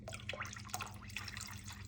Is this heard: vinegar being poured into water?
yes